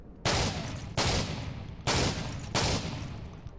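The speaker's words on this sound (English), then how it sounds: "we have the last shotgun, that is the M1014, and it's quite famous as well" M1014 semi-automatic shotgun firing in the video game Call of Duty: Future Warfare, four loud, booming blasts at roughly regular intervals, each trailing off into a short decaying tail.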